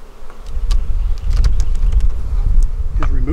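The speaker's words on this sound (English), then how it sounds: "I need as many of these bees downstairs as possible" Honey bees buzz loudly and close while two beehives are combined, a dense continuous drone with individual bees zipping past.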